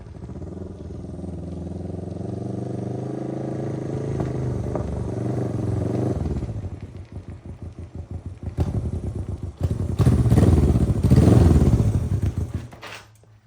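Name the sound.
Honda CB360T motorcycle engine running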